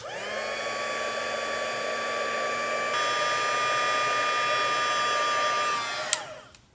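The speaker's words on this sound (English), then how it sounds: "I'm going to use my heat tool, and I'm going to run it back and forth across the greeting until the embossing powder melts." A crafting heat tool blows hot air across a paper greeting to melt embossing powder, giving a steady, close whirring blast with a slight pitch shift midway before it switches off and winds down.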